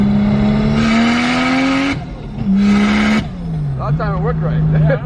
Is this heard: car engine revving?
yes